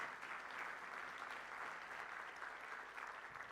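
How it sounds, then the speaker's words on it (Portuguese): Church congregation applauding, a faint, distant-sounding sustained wash of many hands clapping steadily with no voices on top. "Vamos dar um aplauso para Jesus."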